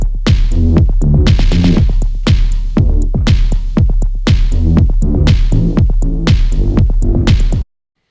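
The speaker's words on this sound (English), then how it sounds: "which was those drums and the synth bass" A printed drum track with an Oberheim synth bass plays as one mix: punchy, loud drum hits over a deep, throbbing bass line in a steady groove, stopping abruptly near the end.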